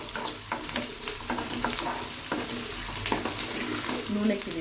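Tempering spices and onions sizzling hard in oil for upma, with a dense, constant crackle and frequent sharp scrapes of a spoon stirring the pan.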